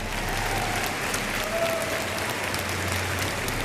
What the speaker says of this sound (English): let's give both of these officers a round of applause